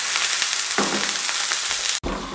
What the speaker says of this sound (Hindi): लहसुन अदरक का पेस्ट डाल के थोड़ा सा घुमा लिया